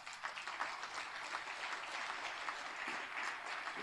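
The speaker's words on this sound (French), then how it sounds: "que d'ailleurs peut-être on peut applaudir ici" An audience applauds at a French political rally in honour of the Verbaudet women workers, with dense, steady clapping filling the hall from start to finish and no voices over it.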